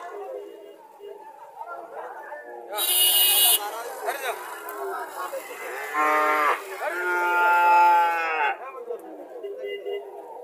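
A milk-fed PGM-breed calf of ten to eleven months moos repeatedly at a village cattle market, several drawn-out calls close by, with people chattering around it.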